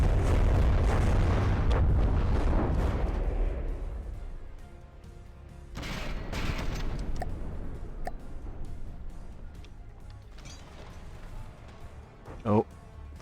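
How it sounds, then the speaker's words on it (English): Booming broadside cannon fire and heavy explosions from warships in the naval combat game From the Depths, loud and dense at first, then rumbling on with scattered blasts and a sharp burst near the end. "Oh, broadside incoming."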